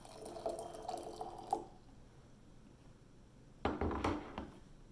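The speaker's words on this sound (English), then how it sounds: "Once your water has boiled, you will pour it into your jar until it's about halfway full." Boiled water is poured into a jar in two short spells, a faint trickling splash, then a quiet pause, then another brief pour.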